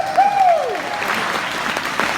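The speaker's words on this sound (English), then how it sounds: "Big round of applause for Zack Snyder, everybody." Audience applause for Zack Snyder at a Supanova fan convention panel, a steady broad wash of clapping from a crowd that holds evenly through the clip, with a brief high whistle-like sweep near the start.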